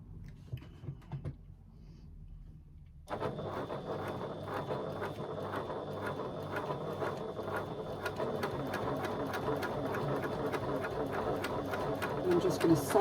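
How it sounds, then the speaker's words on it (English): A sewing machine bastes foam to a bag flap exterior, starting after a quiet moment and then running in a fast, steady mechanical chatter, close and continuous to the end, with a voice heard at the start. "I'm just going to sew baste"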